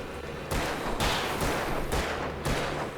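Gunshots in the video game Alan Wake, with about five heavy, booming blasts spaced roughly half a second apart, each trailing into a loud wash of noise.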